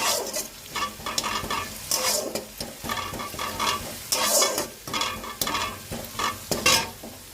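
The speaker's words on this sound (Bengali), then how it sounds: "অল্প একটু চিনি দিয়ে নিয়েছি, তারপরে এটাকে নাড়াচাড়া করে কষে নেব।" Onions with a little sugar fried in a pan for a mutton and katla fish kalia, a spoon repeatedly scraping and stirring over a constant sizzle, close and rhythmic.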